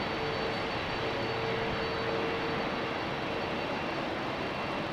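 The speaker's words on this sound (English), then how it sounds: "You might also pick up on the engines of the 767, which is coming next." Boeing 767 jet engines at a rainy Amsterdam Schiphol Airport: a steady, loud broadband roar with a faint sustained whine, constant throughout, no voices.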